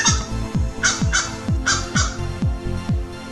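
A large Florida crow calls repeatedly, giving loud, close clucking caws that sound like a chicken, about six bursts in an uneven rhythm over roughly three seconds.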